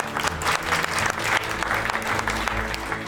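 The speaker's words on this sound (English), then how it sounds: "Big round of applause for Tom this month." Applause from an office audience at a staff award presentation, a steady burst of many hands clapping close by for a few seconds.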